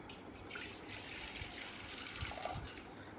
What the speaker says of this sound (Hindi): इस तरह का बर्तन लेना है आपने और इसमें थोड़ा सा आपको पानी डालना है।